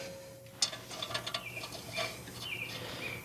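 A ratchet tightening a nut during axle replacement on a VW Jetta, heard as quick close clicking bursts with small metallic ticks, fairly quiet against a faint hum.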